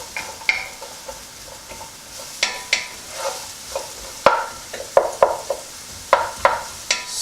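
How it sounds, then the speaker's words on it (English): Chopped onions for a biryani sizzle in coconut oil as a utensil stirs and scrapes the pan in irregular knocks and swishes, close and fairly loud, with no talking. "we're just going to brown them off. Make sure they're covered in all that coconut oil."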